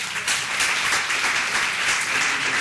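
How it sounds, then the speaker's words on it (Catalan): Audience applause at a community prevention and mediation conference, dense continuous clapping from a crowd filling the whole moment. "un aplaudiment per ells, si us plau."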